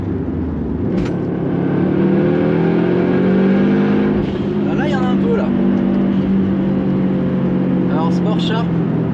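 A Subaru WRX STI engine in Sport Sharp mode, around 450 hp, drones and rises through sustained revs as the car drives on, loud and close, with people talking over it.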